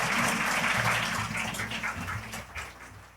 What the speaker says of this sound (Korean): 장학생들 큰 박수로 격려해 주시기 바랍니다.